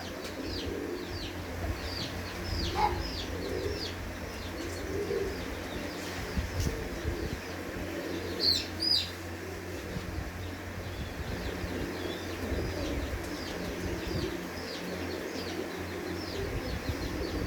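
Pigeons coo steadily throughout, with repeated soft low calls from several birds layered over constant background noise and occasional brief chirps and wing flutters.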